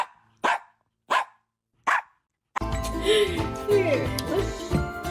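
A dog barks three times in sharp, evenly spaced single woofs, fairly close, before the scene shifts to busier background noise with voices and a high whistling sound.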